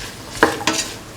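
A pan with about 10 ml of oil, cooking beans and carrot for a rice dish, gives two quick stirring scrapes over a low, steady sizzle, close by and with no voices.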